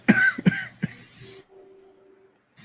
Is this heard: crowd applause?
no